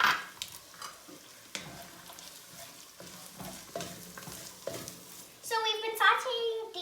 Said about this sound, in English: So now we are going to be adding 4 cloves of garlic and 3 teaspoons of ginger.